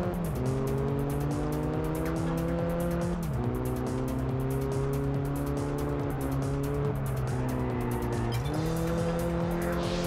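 Racing car engine in the Test Drive Unlimited video game, chasing a Pagani Zonda, with a loud sustained engine tone shifting through gear changes and steady tire squeal throughout, no talking.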